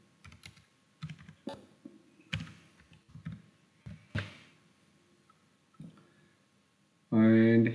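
Computer keyboard keys tapped in short irregular clusters while a password is entered, close and crisp, followed at the end by a brief loud burst of another sound.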